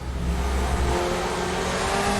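DTM race car with a race-ready V8 in the RaceRoom racing game, revving loud and close with a deep, rich engine note that climbs steadily and holds, no voices.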